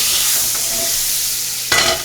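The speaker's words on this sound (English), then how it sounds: "So I've heated up my cast iron frying pan. I'm adding a tablespoon of butter." A tablespoon of butter sizzling loudly and steadily in a heated cast iron frying pan, a dense close hiss with a brief surge near the end.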